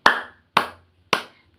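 Three crisp, evenly spaced hand claps, close and loud, each decaying quickly into silence, as part of a rhythmic ice-breaking clapping game in a classroom guidance session.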